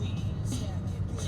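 Steady low engine hum and road noise inside a Mercedes on an early Sunday morning drive, constant and moderately quiet, with a faint tire whir throughout.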